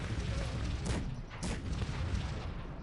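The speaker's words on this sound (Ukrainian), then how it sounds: "І настрілює гарно зараз гарматами." Cannon fire in the strategy game Cossacks 3: two sharp booming shots stand out over a continuous low battle rumble, with no voices.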